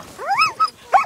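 A sled dog at a race checkpoint gives a few short, high yips and whining barks, close and loud, in three quick bursts.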